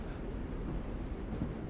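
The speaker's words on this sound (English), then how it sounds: "Why the train? You always pick the train." In the video game The Walking Dead: The Final Season, a train gives a dense, steady low rumble that fills the clip without a break, with no clear clatter or horn.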